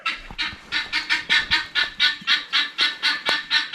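An agitated guinea fowl on a homestead calls repeatedly in a fast, regular rhythm of harsh, two-part honking cries, about four per second, loud and close with no talking.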